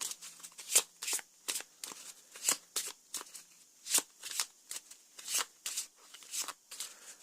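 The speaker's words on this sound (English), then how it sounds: "Shuffle them." A deck of playing cards for a tabletop card game is shuffled by hand over and over, close and crisp riffles in a steady rhythm with short pauses, no voices.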